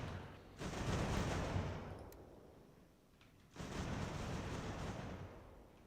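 Massed musket volleys crackle along the firing line in Ultimate General: American Revolution, two long rolling bursts of fire with a brief lull between them, dense and sustained, no voices.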